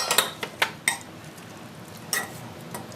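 A large fork twirling fresh buttered tagliatelle on a plate, giving several sharp metallic clinks and taps against the dish in quick irregular succession, close and clear over a quiet background.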